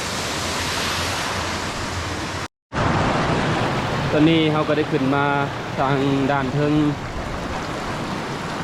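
A Utah waterfall spills down a cliff in a steady, loud rushing roar that cuts out briefly, then returns with someone talking over it.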